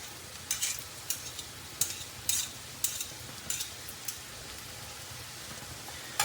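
Sharp scraping clicks of a utensil against a pot of green borscht with cream repeat roughly every half second over a soft, steady sizzle, then taper off.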